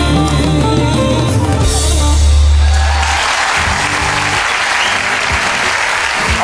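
A studio audience on a Turkish singing duel show applauds the singers, loud continuous clapping that swells early over a fading low musical note, then carries on alone.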